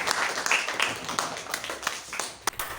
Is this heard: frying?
no